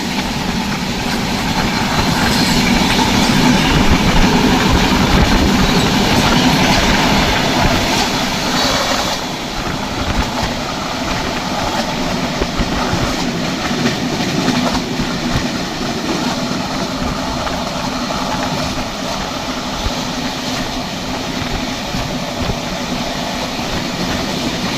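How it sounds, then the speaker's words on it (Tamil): Chennai Rajdhani Express train running at high speed, a steady loud roar of wheels and rushing air with faint clickety-clack, heard from inside a third AC coach. "நம்ம ஆக்ராவை நோக்கி ட்ரெயின் போயிட்டுருக்கான்னு நினைக்கிறேன்."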